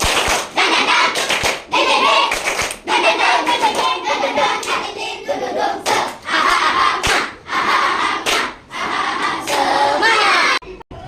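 Indonesian classroom students perform a rhythmic spirit clap together, loud patterned bursts of hand claps and slaps in quick sequences with brief pauses between phrases, filling the room for about ten seconds.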